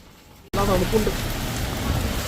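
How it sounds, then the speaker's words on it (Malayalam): In Darjeeling, after a brief quiet moment, loud steady heavy rain abruptly fills the scene, a dense continuous roar of falling water, with a few faint voices underneath. "നല്ല മഴയുണ്ട്"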